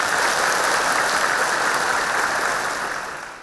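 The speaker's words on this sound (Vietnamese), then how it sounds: "Cho một tràng vỗ tay để tán dương các bạn này." During a Buddhist dharma talk, a large seated audience gives a long, even round of applause, a dense rain-like patter of many hands that holds steady and then fades out at the end.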